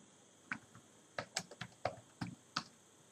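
Keys tapped on a computer keyboard while a search is typed, a handful of sharp separate clicks in uneven bursts, close and fairly quiet with no talk.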